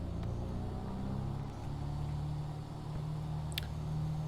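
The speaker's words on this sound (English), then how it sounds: "Rev those engines." Cessna engine throttling up for takeoff in the Prepar3D flight simulator game, a low steady drone that rises slightly in pitch partway through, fairly faint and with no talk.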